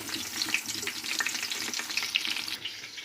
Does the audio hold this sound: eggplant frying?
yes